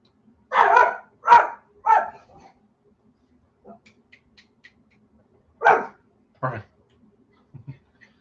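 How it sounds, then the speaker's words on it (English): A dog barks outdoors at neighbors running past: three sharp barks close together, a quiet pause with faint ticks, then two more barks and a few soft yips. "my dog having a little bit of fun with our neighbors out there as they run past"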